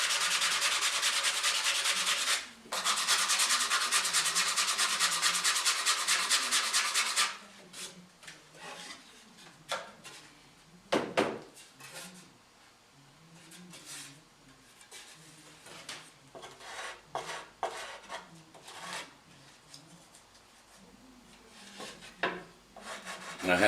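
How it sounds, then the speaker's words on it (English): Hand sanding of mandolin wood parts: steady dense rubbing strokes at first, then slower, scattered scrapes and pauses as the pieces are worked by hand, close and moderately loud. "sand things till they're clean and shaped the way I want them to be"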